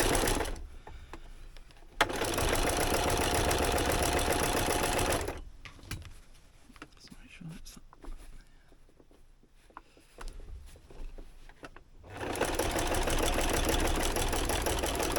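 Home sewing machine stitching fabric for a Christmas gift project at slow to medium speed, a steady close mechanical whirr in two long bursts separated by a quieter pause of small handling noises.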